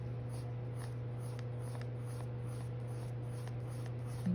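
A color changing pencil scratches across paper in quick, rhythmic strokes, a soft repeated scraping heard close up over a faint steady hum.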